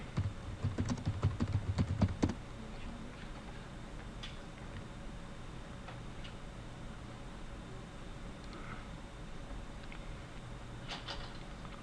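Fingers rattle out a quick, close burst of clicks on a computer terminal keyboard for about two seconds. The keys then fall to near silence, with only a few faint, scattered taps.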